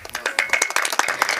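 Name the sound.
audience clapping during a kirtan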